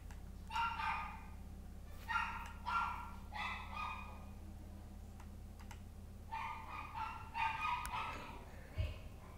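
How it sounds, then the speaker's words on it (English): A dog barks repeatedly in the background in two clusters of sharp yapping bursts, fairly faint over a steady low hum. "Oh my goodness, that dog never shuts up."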